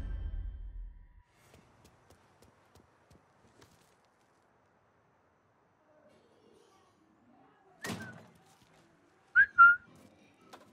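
Brief whistling from a character in the video game Mafia 3, a couple of short high tones near the end after a long near-silent stretch with faint steps.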